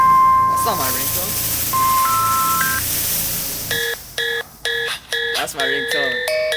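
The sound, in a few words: mobile phone ringtone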